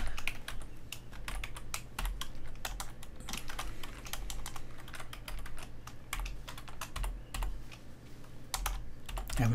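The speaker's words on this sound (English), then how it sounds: "Having troubles typing." Rapid typing on a computer keyboard, a quick irregular stream of soft clicks and taps close by, fairly quiet, no speech.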